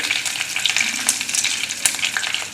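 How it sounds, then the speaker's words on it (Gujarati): Whole spices, dried red chillies, bay leaf, cinnamon and cloves, sizzling in hot oil for kadhi, a steady crackling fry with scattered pops and a stirring scrape, close and without talk. "બધું સારી રીતે મિક્સ કરી લઈએ અને થોડી વાર માટે શેકાવા દઈએ."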